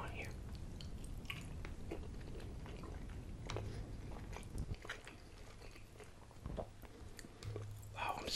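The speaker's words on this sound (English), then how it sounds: "gonna have some great meatballs to snack on here" Meatballs from a spaghetti dinner chewed close to the microphone, soft wet munching and biting in a steady rhythm, quiet and intimate, with faint whispery breaths between bites.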